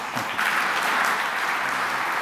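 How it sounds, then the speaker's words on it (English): Conference audience applauding a speaker's introduction, a dense, steady burst of clapping from many hands that fills the room for a couple of seconds. "can we have a warm round of applause for Lee Metters from Domino Printing Service"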